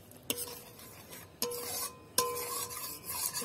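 A spatula scrapes and stirs spice paste with yogurt and chilli powder in a pan over low heat for Bengali aloo dum, giving three sharp metallic knocks amid steady close rasping.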